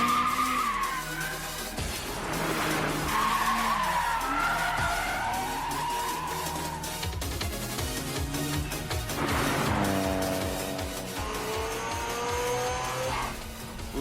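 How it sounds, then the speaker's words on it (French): In an anime race, a drifting car keeps its tires squealing loudly and continuously as the engine revs and shifts, with rising and falling pitch throughout the slide. "c'est de réussir à changer de fil et de vitesse tout en contrôlant ton dérapage"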